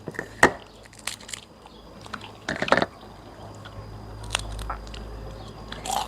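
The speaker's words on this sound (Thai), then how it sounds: "กินปลานะครับผม" Someone chewing while eating fish, with scattered close, wet bites and crunches separated by quiet pauses and soft mouth sounds.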